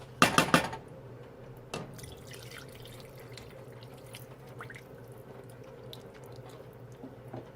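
Water goes into a pot of bolognese sauce in a short splashing burst at the start. A small splash or drip follows, then a quiet, faint kitchen background.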